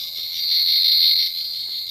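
An 11th Doctor sonic screwdriver toy gives off a steady, high-pitched warbling electronic buzz lasting about two seconds, swelling slightly louder in the middle before easing off, with no talking.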